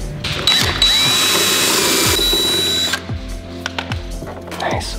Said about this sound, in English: we're gonna have to make this hole just a tiny bit bigger so it can fit this nut